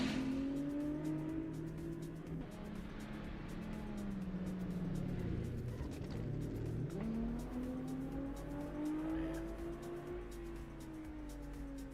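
A drift car at full throttle in competition wails through a rising and falling engine note, with tire squeal layered over a continuous loud roar as it is held through the outer zone.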